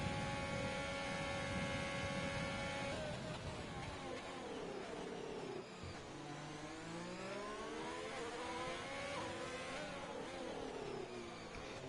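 Ferrari Formula 1 engines in an F1 esports racing game whine and rise in pitch, several high-revving cars layered with sweeping gear changes, loud and continuous without talk.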